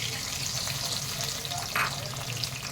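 Tomatoes frying in a pan for dal makhani, a dense continuous sizzle close by, with a brief stirring scrape partway through.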